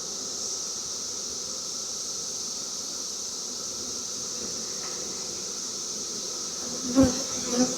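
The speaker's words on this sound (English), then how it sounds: "get the rest of these bees that are inside" A swarm of bees from a cutout being moved into a hive with a frame of larvae makes a dense, steady buzz close by, and a couple of knocks come near the end.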